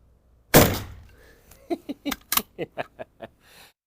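A single sharp shot from an Anschutz 1365 rifle chambered in 9mm Flobert rings out near and loud, followed by a quick run of lighter metallic clicks and knocks, with no talk.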